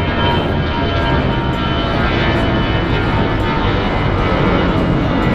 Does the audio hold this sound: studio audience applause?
no